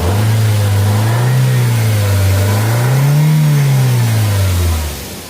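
A serviced car engine with a freshly cleaned sensor and ISC valve runs smoothly, rising and falling through a few gentle revs, loud and close with no voices, then easing off at the end.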